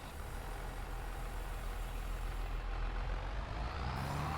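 A tractor engine in Farming Simulator 25 runs steadily with a low, loud rumbling drone and a faint hiss on top, continuous throughout with no talking.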